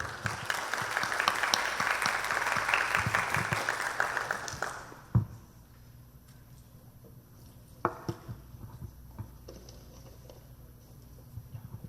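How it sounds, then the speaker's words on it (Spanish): Audience applause welcoming a doctor onto the stage at a conference, a dense, loud crowd clapping that fades out after about five seconds into a quiet room with a few scattered noises. "Fuertes aplausos"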